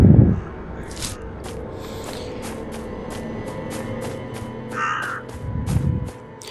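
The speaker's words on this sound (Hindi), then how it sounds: "कौवे बहुत बोल रहे हैं।" Several crows caw in a graveyard in the horror video game Death Park, a run of short repeated calls at moderate distance over a steady ambient bed, with a couple of low thuds at the start and end.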